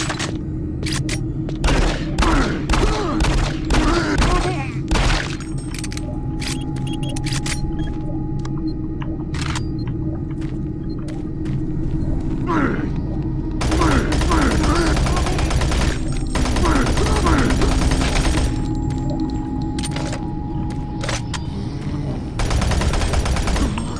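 Rapid gunfire in the sci-fi shooter Doom 3, Lost Mission: loud, close bursts of repeated shots in irregular clusters for over twenty seconds, among game noises and occasional voices.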